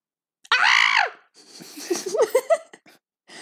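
A voice imitates a piercing scream: one long, shrill, rising-and-falling shriek, followed by a short burst of giggling, laughing vocal noises, close and loud against silence.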